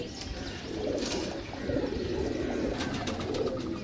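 Pigeons in a loft coo softly in repeated low, throaty phrases, with a few faint chirps and rustles in the background; moderately quiet and close.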